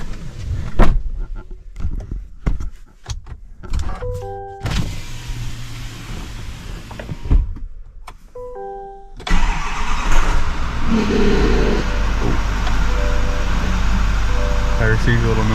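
A 2024 Chevrolet High Country truck with a rebuilt Duramax diesel engine starts up after a turbo repair. Clicks and short electronic chimes come first, then the engine catches and settles into a steady close idle, with someone talking over it.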